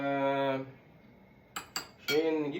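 Metal spoons clink twice in quick succession while tuna pasta with mayonnaise is being served, short sharp taps set between stretches of a voice.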